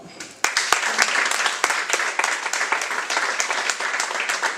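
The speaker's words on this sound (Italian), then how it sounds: "Allora facciamo un grande applauso di ringraziamento di nuovo." An audience applauds in thanks at the close of a book presentation, the clapping starting with a few sharp individual claps and then swelling into steady, dense applause from a room of people.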